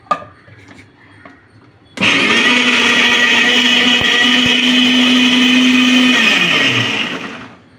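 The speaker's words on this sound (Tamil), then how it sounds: "சும்மா லைட்டாக கொரப்பாக அரைச்சா போதும்" A mixer grinder kicks on abruptly after a quiet start and whirs loudly for about four seconds, coarsely grinding masala, then winds down; faint clinks come before it starts.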